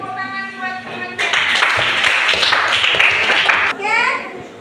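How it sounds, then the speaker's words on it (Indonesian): Classroom students clap for their classmates, a burst of fairly loud, brisk clapping from a group of children, preceded and followed by a teacher's voice speaking. "tepuk tangan buat teman-teman"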